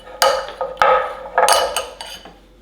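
Flour being worked into butter for a sweet potato crisp topping, heard as a handful of sharp utensil clacks and scrapes against a bowl, close and irregular, with no voices.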